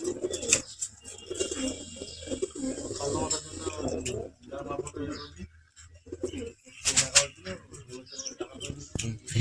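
Pigeons in a loft in Barasat coo and rustle close by, with soft repeated cooing, chirps and bursts of wing flapping, and some voices in the background.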